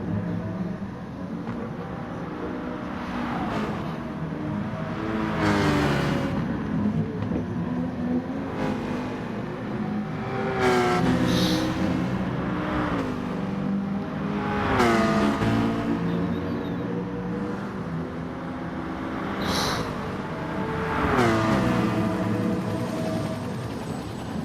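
Racing cars including a Citroen and a Porsche in the Gran Turismo racing game at St. Croix, engines rising and falling in repeated rev sweeps and gear shifts as several cars pass close by, loud and continuous with no talking.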